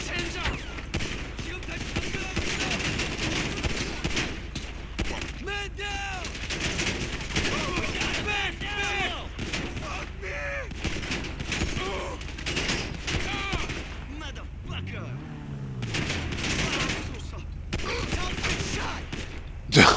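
Gunfire in GTA 5 Online comes in dense, rapid bursts that run almost continuously, with someone talking over the shooting throughout.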